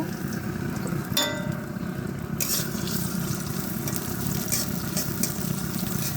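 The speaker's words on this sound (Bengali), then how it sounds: "এবার আগে আমি পেঁয়াজ কুচি করে রেখেছি তা ঢেলে নেব।" A metal clang, then chopped onions hit hot oil and burst into a steady sizzle that continues to the end.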